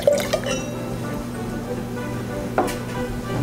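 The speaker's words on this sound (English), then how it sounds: "I just wanna pour a glass of this right out of the bottle and see what I think." Bordeaux wine, a 2009 Chateau Brane Cantenac Margaux, poured straight from the bottle into a glass: a brief gurgling splash at the start, then a quiet spell and a second short pour or clink near the end.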